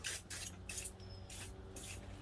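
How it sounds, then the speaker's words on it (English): Short hissing bursts of an aerosol spray on the bolts of a Suzuki TS125 motorcycle engine, four or five quick sprays in a row, close and fairly quiet, with no talking. "Now we're going to spray all the bolts."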